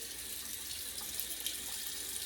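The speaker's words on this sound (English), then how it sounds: "after I do a couple strokes, I'll just run it under hot water" Hot tap water running steadily into a bathroom sink as a razor is rinsed during a beard shave, a continuous soft hiss and splash, close and alone.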